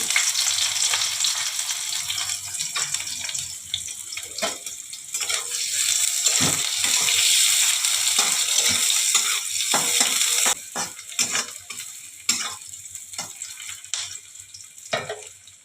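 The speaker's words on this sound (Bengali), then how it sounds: "এই যে গোটা জিরে দিয়ে দিলাম, কুচনো পেঁয়াজ দিয়ে দিলাম" Whole cumin seeds and chopped onion crackling and frying in hot oil in a pan for aloo dum, a loud steady sizzle with spatula scrapes and stirring clatter, easing into intermittent sputters and knocks toward the end.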